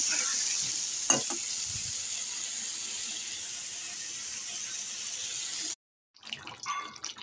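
Spice paste frying in oil for a Bengali fish-head curry, a bright steady sizzle near at hand with a brief clatter early on, cutting off abruptly before faint scattered noises follow.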